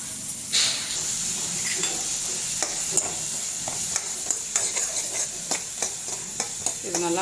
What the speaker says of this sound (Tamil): கடாயில் இப்போ நம்ம எடுத்து வச்சுருக்கேன் வெங்காயம், கேரட்டு, பீன்ஸ் எல்லாத்தையும் வந்து இதில் ஆட் பண்ணி நல்லா வதக்கிக்கலாம்